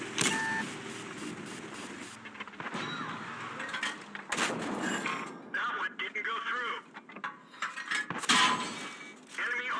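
Tank cannon shots and mechanical clanks in the World of Tanks video game, several sharp loud bursts spaced a few seconds apart over engine noise, with a voice talking throughout.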